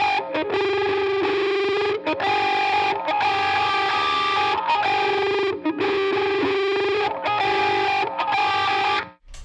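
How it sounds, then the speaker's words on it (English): Distorted electric guitar strumming a basic chord through a wah pedal, the filter sweeping up and down over sustained, effects-laden, chorus-tinged ringing, loud and continuous with brief pauses between strums. "when you hear wah in this kind of music, it's over parts that are pretty basic actually, and you kind of let the filter sweep do most of the work"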